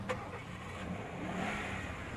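A car engine hums steadily on a roadside, a vehicle stopping to give two stranded travellers a lift on the road to Ooty; a continuous mid-level rumble with a faint swell, no voices.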